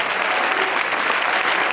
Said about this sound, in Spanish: Den un aplauso al Rey en esta preciosa noche.